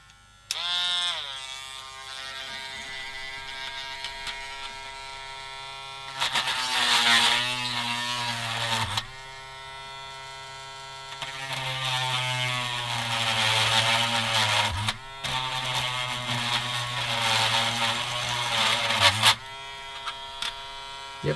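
A small high-pitched rotary drill whirs in bursts while boring into plastic parts of a Tamiya 1/35 SdKfz 222 model kit, its steady whine rising and dipping as pressure changes, close and alone.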